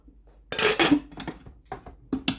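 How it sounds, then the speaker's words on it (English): A lid is set onto a cooking pot on a high stovetop, giving a few quick metallic clanks and clinks, close and clear with no talking. "Pop the lid on"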